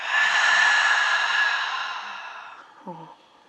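A long, breathy exhale during a children's yoga breathing exercise, loud and close at first, then fading out over about two seconds, followed by a short voiced sound.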